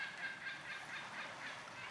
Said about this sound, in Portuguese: E tem essas aves que eu não sei o nome.